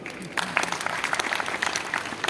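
An indoor audience breaks into applause, a dense spread of many hands clapping at moderate loudness that continues throughout.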